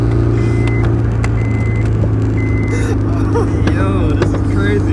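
A Honda S2000 being driven with no clutch pedal fitted, its engine giving a steady, close, droning hum that holds level throughout.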